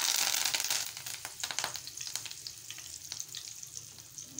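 Curry leaves hit hot oil for a thin poha chivda, bursting into a loud sputtering sizzle at first, then settling into a quieter, crackling fry that continues alone.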